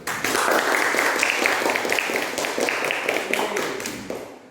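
A fifth-grade class claps for a group that has just finished its presentation, a close burst of many hands slapping in quick uneven rhythm that gradually thins and fades at the end.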